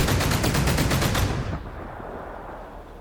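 A naval gun turret in the survival game Sunkenland fires a rapid, evenly spaced burst of loud, close shots for about a second, then the sound rings out and decays into a fading rumble.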